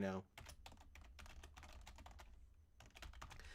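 A password is typed on a computer keyboard in quick, uneven bursts of close key clicks with brief pauses between them, under faint background noise.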